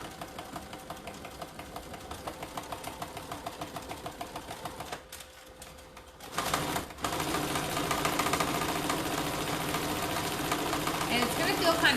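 A sewing machine stitches a fabric basket padded with cushiony batting, its rapid steady mechanical whirring running continuously, with a brief pause midway before resuming louder.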